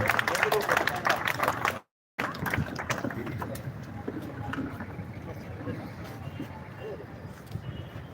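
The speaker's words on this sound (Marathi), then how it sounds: "एकदा जोरदार टाळ्या या दोघांसाठी वाजवा" An audience at a Kargil Vijay Diwas ceremony in Indapur claps for two people being honoured, a brief burst of applause mixed with a speaker's amplified voice over a public address system.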